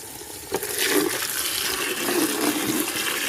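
Water running steadily from a tap into a container in a house, a close, continuous splashing rush after a brief start, with no talking.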